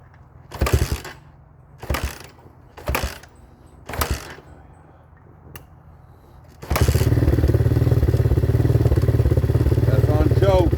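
A 2019 Hawk 250cc motorcycle on choke cranks in four short sputtering bursts with gaps between them. It then catches and settles into a loud, steady, clattering idle close by.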